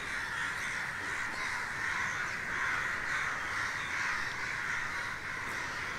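A large flock of crows caws continuously near a Parsi Tower of Silence, a dense overlapping cacophony of harsh calls that stays loud throughout with no talking.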